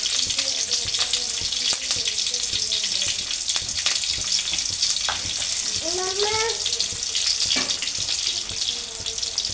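Mustard seeds, garlic, dried red chillies and curry leaves sizzle and crackle in hot oil as a tempering for potato fry, with steady frying hiss, occasional pops and a brief background voice.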